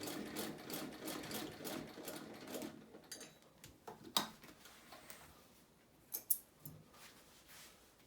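A vintage Husqvarna sewing machine stitching through leather, its rapid needle chatter running steadily at first, then slowing into scattered clicks and a few louder knocks as it works against more resistance.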